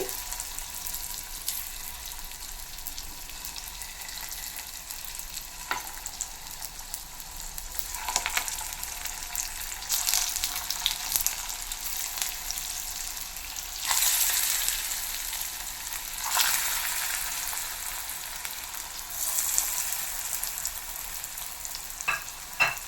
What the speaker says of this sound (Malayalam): എണ്ണ നല്ലപോലെ ചൂടായിട്ടുണ്ട് നമ്മൾ ചെറുതായിട്ട് ഉരുള ഉരുട്ടി വെച്ചേക്കുന്നത് ഇങ്ങനെ ഓരോ കുഴിയിലോട്ടും വെച്ചു കൊടുക്കാം